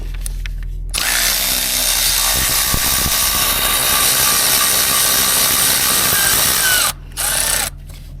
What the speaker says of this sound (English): Where this ratchet comes in really nice.